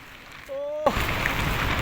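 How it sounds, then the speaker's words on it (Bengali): A short tonal sound in near silence, then a sudden steady roar of heavy rain that continues loud and dense to the end. "প্রচুর বৃষ্টি এত বৃষ্টির মধ্যে কাজে যেতে হচ্ছে"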